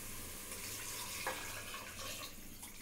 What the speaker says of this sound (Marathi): आता आपण ह्याच्यामध्ये पाणी घालायचं आहे।